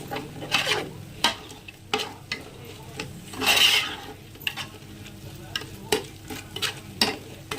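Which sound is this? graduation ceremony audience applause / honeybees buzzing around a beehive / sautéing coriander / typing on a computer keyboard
sautéing coriander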